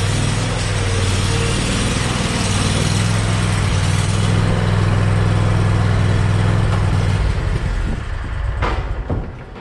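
A Scag V-Ride riding lawn mower engine drones loud and steady up close, a constant buzzing hum that fades and becomes uneven in the last couple of seconds.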